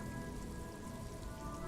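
Steady rain falls in the Disco Elysium video game, a soft, continuous wash of drops on a hard surface with no voices, an even, unbroken patter through the whole stretch.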